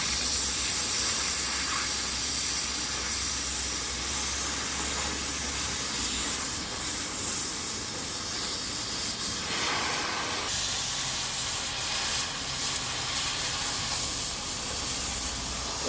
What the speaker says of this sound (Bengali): দেখতেছেন বোল্টগুলো কাটতেছি।